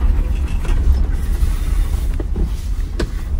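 A car's rear differential makes an odd, low rumbling drone with faint creaks and clicks, steady and moderately loud throughout, recorded from inside the moving vehicle.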